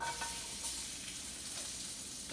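Chopped onions hit a hot pan of olive oil with a steady, loud sizzle that runs without break, close up and with no voices over it.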